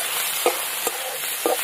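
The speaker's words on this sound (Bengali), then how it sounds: "চিকেনটা একটু ফ্রাই করে নেবো পেঁয়াজের সাথে" Minced chicken frying with onions, cumin powder, turmeric and salt gives a steady, close sizzle, broken by three short scrapes of stirring.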